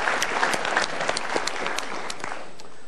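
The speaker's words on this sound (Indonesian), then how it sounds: "kita berikan tepuk tangan untuk pertanyaannya" Audience applause rewards a question at a motivational seminar, a dense, even wash of many hands clapping, moderately loud and sustained, gently easing off toward the end with no voices heard.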